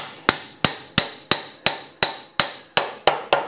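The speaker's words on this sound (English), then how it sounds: "you can always pull back the tail stock and use a mallet" Ten sharp, evenly spaced taps of a mallet striking a wood lathe's tail stock, close and loud, each a crisp hit with a quick decay and no talking.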